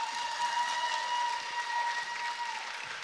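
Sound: audience applause for a pageant contestant

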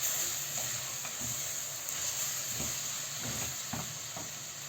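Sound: onion and tomato paste sizzling while being sautéed

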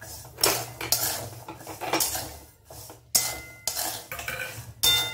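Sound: peanuts added and stirred into roasted salt in a pan

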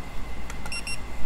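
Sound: RC car electronics beeping when servo is centered

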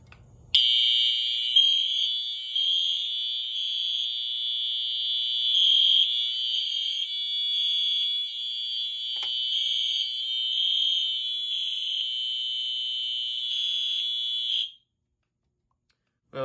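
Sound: fire alarm set off by smoke detector test

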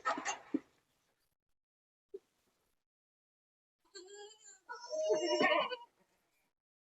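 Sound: goats bleating, Sirohi and local breeds

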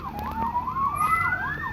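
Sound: police car siren

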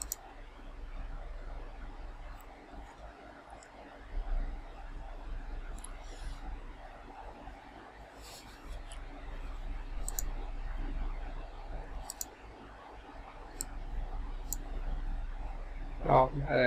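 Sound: computer mouse clicking

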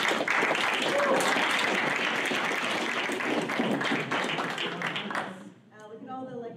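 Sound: audience applause for students

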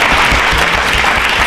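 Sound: audience applause for correct quiz answer

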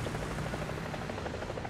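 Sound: helicopter in the video game War Thunder

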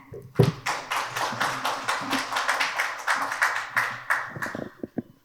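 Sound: audience applause welcoming a speaker

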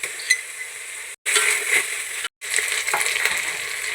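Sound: whole spices, onion and ginger-garlic paste frying in hot oil

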